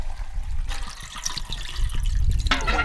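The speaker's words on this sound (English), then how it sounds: "We poured water into the reservoir" Water poured into the reservoir of an antique stove, a steady liquid splash and trickle close by, rising to a brighter gush near the end, with no talking.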